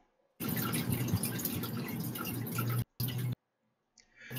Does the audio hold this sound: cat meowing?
no